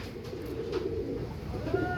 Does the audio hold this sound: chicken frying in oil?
no